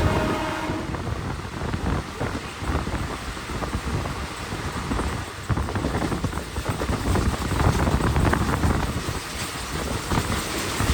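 The Howrah–Sahibganj Intercity 13427 runs at about 110 km/h. It makes a steady, loud, dense rumble with rattling wheel and carriage noise and wind, heard from on board throughout, with no voices.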